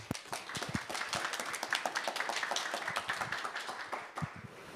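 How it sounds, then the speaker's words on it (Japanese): A room full of people at a PyCon JP 2022 conference talk applauding, dense scattered clapping at steady strength that thins slightly toward the end. "皆さん拍手でお 迎えください"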